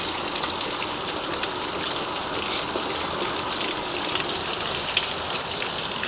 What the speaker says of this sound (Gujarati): છે ને ભાઈ જોરદાર વરસાદ છે ને.